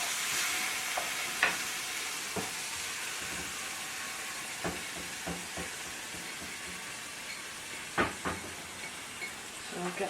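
Onions and lentils sizzling steadily in a pan, a constant close hiss broken by occasional clinks and scrapes of stirring, with no talking.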